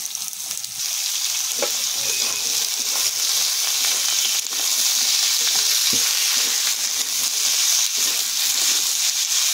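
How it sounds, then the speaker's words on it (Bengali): Potatoes and onion fry together in oil in a pan, a continuous close sizzle broken by several spoon or spatula stirring scrapes, with no voices. "আলুটা একটু ভাজা ভাজা করবো।"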